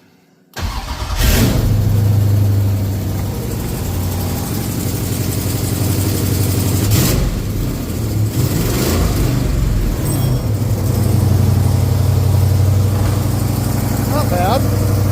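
A Plymouth Cuda's 392 Hemi V8 cranks and fires, then idles with a loud, rumbling exhaust and several sharp revs, an exhaust leak adding small ticking, while someone talks nearby.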